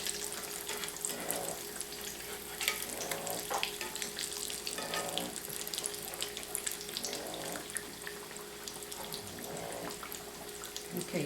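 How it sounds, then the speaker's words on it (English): Fried sweet potato pies crackle and sizzle steadily in hot oil, a dense, even frying hiss that runs without pause for about eleven seconds, close up, with no talking. "we're going to let those fry a few"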